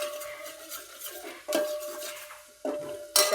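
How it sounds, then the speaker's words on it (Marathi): Onion-garlic masala roasts in a pan while a spoon stirs it, with steady scraping and clinks of metal on metal over a low sizzle, close and fairly quiet. "मसाला भाजून घेऊया."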